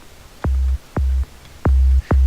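Four deep, punchy electronic kick drum hits with a sharp attack dropping into a short low boom, spaced irregularly and loud.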